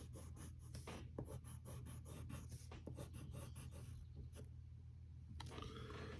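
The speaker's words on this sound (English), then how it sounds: "then we'll draw another line that goes down and curves out." Pencil or marker strokes on paper while drawing a cartoon penguin character, a run of quick scratchy strokes early on, then quieter longer lines, close and soft against a steady low hum.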